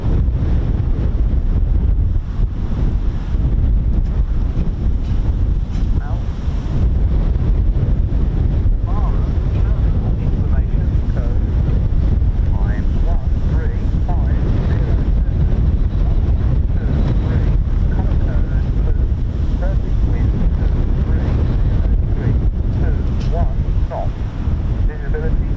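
Strong gusting wind buffets the microphone at a naval air station, a continuous loud roar with surging gusts throughout.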